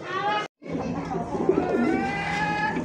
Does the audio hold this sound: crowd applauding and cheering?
no